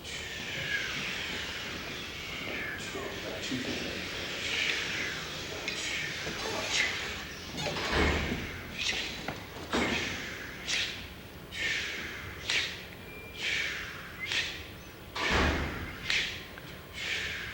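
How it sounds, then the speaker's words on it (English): Drum set hi-hat played at a drum clinic, a series of crisp rhythmic chick and splash strokes, some slightly open, with occasional low thumps, close and moderately loud. "Remember that sound because that's the sound of the hi-hat"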